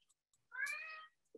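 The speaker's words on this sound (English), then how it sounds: "Apologies for my cat." A pet cat gives a single drawn-out meow, clear and moderately close against a quiet room, with a couple of small soft clicks just before and after.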